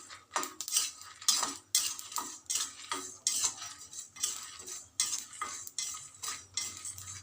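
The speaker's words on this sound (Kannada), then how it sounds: "ಇದನ್ನು ಡ್ರೈ ರೋಸ್ಟ್ ಮಾಡಿದರೆ ಸಾಕು." Dry roasting chillies in a pan, a metal spoon scraping and stirring with repeated clinks and rattles against the pan, steady close rhythmic stirring strokes with a faint background hum and no talking.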